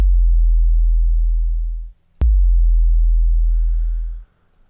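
A synthesized kick drum with an extreme exponential envelope plays twice as deep, booming sub-bass thumps, each starting with a sharp click and holding a long sustain that fades steadily, with no other sound.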